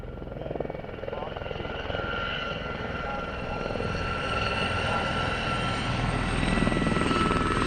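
Gazelle helicopters fly in a close line astern formation at the Fly Navy airshow at Shuttleworth, a steady, continuous rotor and turbine drone that holds at a moderate distance throughout, with a faint voice underneath.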